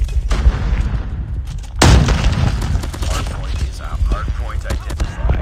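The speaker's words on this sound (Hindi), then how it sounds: "देख रहे हो अभी से फायरिंग हो रही है।" Call of Duty Mobile gunfire: steady loud crackling bursts with a heavy boom near the two-second mark, continuous battle noise throughout and no clear talk.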